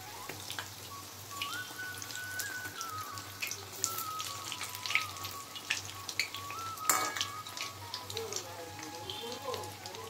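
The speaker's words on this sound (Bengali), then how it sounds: "আমি উল্টে পাল্টে লাল লাল করে ভেজে নেব" Khaja, a layered sweet dough pastry, frying in oil, with gentle crackling and popping bubbles close by at low level, and faint voices in the background.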